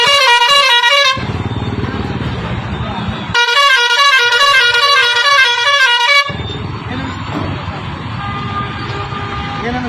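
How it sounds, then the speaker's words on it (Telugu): Several vehicle horns, including what may be bus or truck air horns, honk loudly in two long sustained blasts, each lasting about two to three seconds. Between the blasts there is a busy road with traffic rumble and scattered talk. "వాళ్ళ బండి హారను వాళ్ళ చెవుల్లో వలిగేటట్టు వినిపించిండ్రు"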